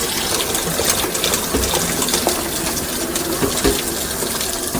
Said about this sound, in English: We're just going to wash it with really warm, soapy water.